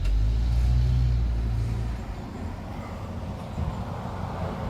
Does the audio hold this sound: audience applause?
no